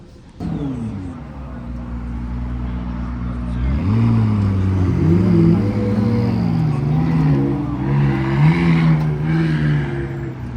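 McLaren Senna supercars rolling past, deep engine drone rising and falling with shifting revs, loud and near, the tone climbing as they accelerate by, with a voice speaking over the engines.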